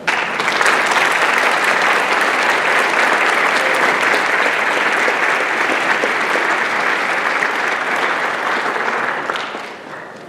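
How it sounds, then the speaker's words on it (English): A memorial celebration-of-life crowd gives a long round of applause, thick continuous clapping at a strong, steady level that thins and fades slightly near the end, with no voices on top. "Y'all give ourselves a round of applause."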